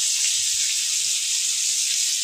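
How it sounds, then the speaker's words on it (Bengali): Meat frying in a pan, a steady bright sizzling hiss that stays close and continuous with no voices. "আমার বউয়ের জন্য মাংস ভাজি করা প্রায় হয়ে গেছে"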